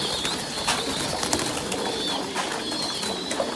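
Thai Titan meat pigeons cooing in a steady, close chorus at a farm, soft throaty calls blending over a constant hum with no voices.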